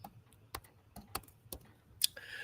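Computer keyboard typing, a handful of separate sharp key clicks spaced irregularly about half a second apart, close and fairly quiet, ending in a louder clack.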